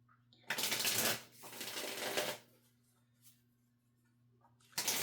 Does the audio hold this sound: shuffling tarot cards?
yes